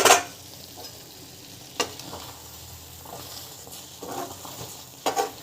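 Rava kichadi bubbling on the stove in a pan: a soft, steady sizzle and simmer throughout, broken by a few sharp clinks and scrapes of stirring near the start and end, with no talking.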